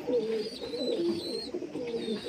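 Kalanga pigeons cooing close by, a few soft, throaty rolling coos over a couple of seconds with a faint higher chirp, no talking.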